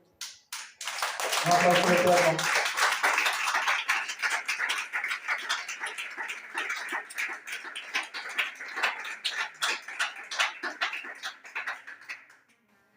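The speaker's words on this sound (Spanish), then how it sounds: "Denle un aplauso" Audience at a Hebrew-roots-of-faith seminar breaks into applause after a brief spoken word, the clapping moderately loud, somewhat uneven, and lasting around ten seconds before trailing off.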